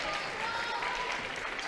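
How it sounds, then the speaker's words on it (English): Basketball fans at a high school tournament game applaud their team in a steady, distant wash of clapping that fills the gym, with crowd murmur mixed in. "Trojans fans applauding their squad."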